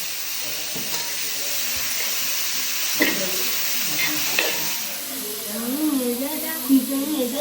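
Onions sautéing with salt in a pan, a steady sizzle and hiss with occasional scraping stirs, while a voice talks over it.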